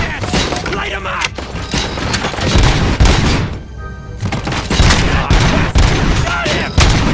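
Heavy gunfire in Robocop: Rogue City, loud dense bursts of shots and booming impacts in a chaotic firefight, close and continuous, with voices shouting over it.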